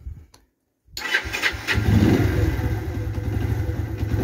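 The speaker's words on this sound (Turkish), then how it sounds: "Yani ilk marş." A motorcycle engine, just after a spark plug cleaning, fires up on the first kick: after a brief silence it catches abruptly, briefly revs, then settles into a steady, close, rumbling idle.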